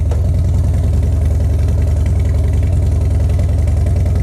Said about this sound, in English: This is putting it in gear for the first time.